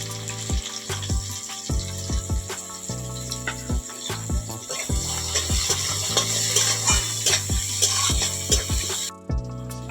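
Chopped onion, dried red chilli and bay leaf fry in hot mustard oil, giving a crackling sizzle with repeated sharp spatters and clinks of a spoon in the pan, steady and close, with a brief drop at the end.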